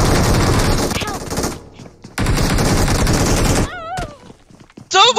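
Loud bursts of automatic gunfire in the mobile battle royale game PUBG Mobile, with two long rattling volleys separated by a short pause, followed by quieter scattered sounds and a sharp final burst.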